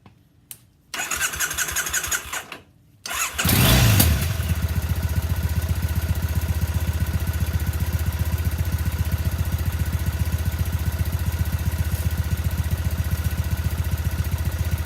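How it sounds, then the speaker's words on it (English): Triumph Bonneville motorcycle engine after an oil change, a couple of starter cranks and stutters before it fires up loudly, then settles into a steady close idle that runs on alone. "Then I'm going to turn it on and test it for leaks."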